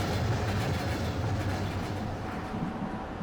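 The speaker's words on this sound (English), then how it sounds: "Yes, the train is moving." A freight train rolls steadily along the tracks, a continuous close rumble with a faint rhythmic clatter of wheels that holds throughout, with no voices.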